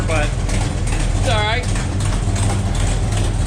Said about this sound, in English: the exhaust leak you hear underneath is the O2 bug